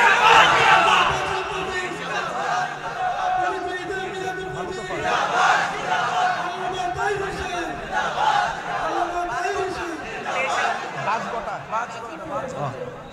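A huge crowd at a religious mass gathering in Comilla town chants the Nara-e-Takbir slogan in rhythmic waves of many voices, loud and continuous, with shouting swells throughout.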